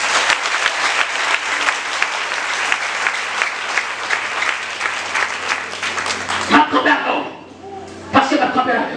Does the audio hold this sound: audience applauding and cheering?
yes